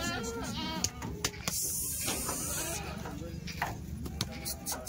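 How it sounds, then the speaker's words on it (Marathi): Goats bleating on a farm while being tied up, several short wavering calls near and far overlapping one another, with occasional hoof knocks and people talking in the background. "तुम्ही शेळ्या बांधून घ्या"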